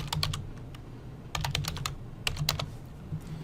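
Computer keyboard typing a command into the Windows command prompt: quick bursts of close, crisp keystrokes with short pauses between them, over a low steady hum.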